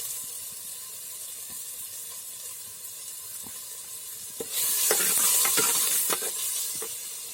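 Chopped tomato and a pinch of salt frying in a pan as the base for a Tulu-style fish curry, a soft background sizzle that swells louder midway with faint stirring clicks and scrapes.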